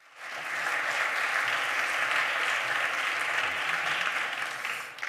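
An audience at a health-services conference in Barcelona gives a speaker strong applause, a steady, even roar of many hands that swells in and tapers off after about five seconds.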